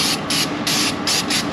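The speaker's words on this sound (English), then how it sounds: "I'm just gonna get some brake clean and spray all this." Brake cleaner sprays in short, forceful hissing bursts onto a Chevy Silverado 2500 HD brake rotor, close and loud, with brief pauses between squirts.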